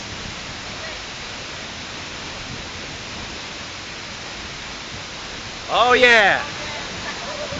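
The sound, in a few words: Dawara Falls waterfall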